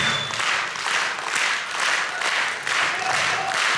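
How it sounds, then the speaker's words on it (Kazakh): An audience claps together in a steady, moderately loud burst of applause for a player honoured after a game, the clapping swelling and dipping slightly without any voices over it. "Ерекеңді алға шығарып бір шапалақпен бөле жіберейік."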